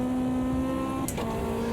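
Caterham engine in Automobilista 2 holding a steady, buzzy drone at high revs, close and continuous, with a brief flutter as the pitch dips and recovers midway.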